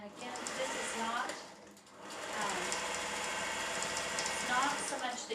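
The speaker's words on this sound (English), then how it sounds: "I'm going to take these both over to my sewing machine, and then I'm going to just chain piece right on through." A sewing machine chain piecing fabric runs steadily at speed, pausing briefly partway through and then resuming with a continuous close mechanical whir.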